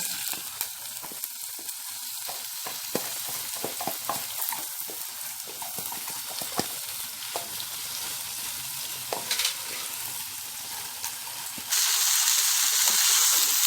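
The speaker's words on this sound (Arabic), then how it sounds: "انا دلوقتي بشوح الرز والعدس اهون مع بعض" Rice and lentils are sautéed together in ghee in a pan, a close steady sizzle with scraping stir strokes, growing to a brighter hiss near the end, with no speech.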